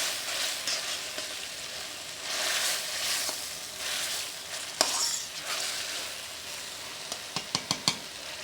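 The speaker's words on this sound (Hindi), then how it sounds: "अब इसको अच्छी तरह मैं भून रही हूँ" Chicken being stir-fried in masala in a pot while pilau biryani is prepared: a steady close sizzle and hiss with soft stirring scrapes, then a few sharp spoon clinks against the pot near the end.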